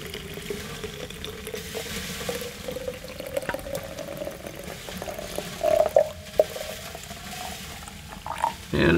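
Liquid poured into a container outdoors at an off-grid camp, filling steadily with a continuous watery gurgle and a rising tone near the end, fairly close and alone without talk.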